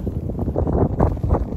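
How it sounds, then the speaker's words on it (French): Wind gusting at a bivouac campsite on the island of Noirmoutier, steady buffeting rumble and microphone wind noise that swells and dips in loud gusts. "Il y a du vent, hein."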